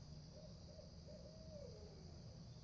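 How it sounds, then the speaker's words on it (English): An owl hoots at night in a park, a few soft, drawn-out calls rising and falling at moderate distance over a steady background hiss, with no one talking. "That's an owl."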